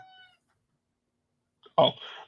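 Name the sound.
cat meowing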